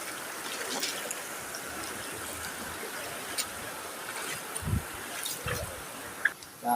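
A storm-swollen stream rushes in a steady broadband wash, with a few low thumps and faint splashes over it.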